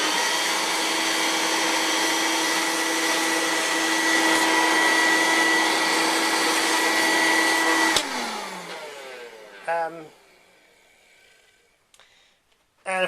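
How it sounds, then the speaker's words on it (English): A vacuum cleaner roars loud and steady while hoovering up excess model railway ballast from a Hornby Trakmat layout, then switches off and winds down, followed by brief rattles and clicks. "Having pressed it down, and hoover up the excess."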